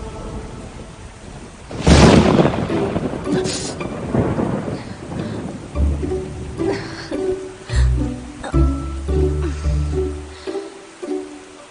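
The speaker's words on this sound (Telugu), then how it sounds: "ఉరుములంటే నాకు చాలా భయం, అందుకే చెవులు మూసుకుంటున్నాను" Thunder booms loudly during a rainstorm, with a sharp crack followed by long rolling rumbles. Rain patters steadily underneath, and tonal sounds and voices come in during the later part.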